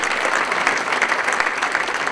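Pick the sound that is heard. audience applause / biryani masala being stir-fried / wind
audience applause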